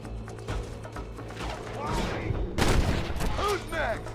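Gunfire from the Red Dead Redemption video game on PC: a burst of shots with a sharp crack near the middle, over game music and voices talking.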